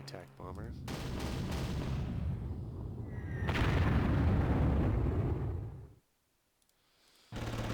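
Explosions from an attack bomber strike in the video game Panzer Corps, with heavy rumbling blasts and bursts that swell, cut off briefly near the end, then resume.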